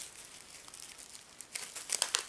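Plastic wrapping on a booklet of Dobble scratch tickets from a tobacconist is crinkled and torn open up close, with rustling that grows louder and busier toward the end.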